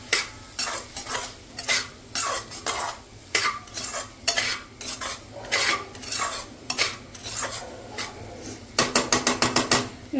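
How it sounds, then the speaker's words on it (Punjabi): Ridge gourd is added to a pan for a dry sabzi and stirred, giving a string of close, distinct spatula scrapes and clatters in an uneven rhythm that speed into a quick run of strokes near the end. "ਹੁਣ ਆਪਾਂ ਜਿਹੜੀ ਤੋਰੀਆਂ ਨੇ ਇਹਦੇ ਵਿੱਚ ਪਾ ਦਾਂਗੇ ਸੁੱਕੀ ਸਬਜ਼ੀ ਬਣਾਵਾਂਗੇ ਤੋਰੀਆਂ ਦੀ"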